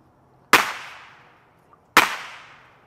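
Two sharp gunshots ring out outdoors about a second and a half apart during gun-shy training for Cane Corso puppies, each a loud crack trailing off into a short echo.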